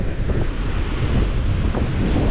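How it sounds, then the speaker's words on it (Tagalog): Heavy surf crashing nearby, a dense roaring wash of water mixed with strong wind buffeting the microphone. "Sobrang lakas ng alon na yan."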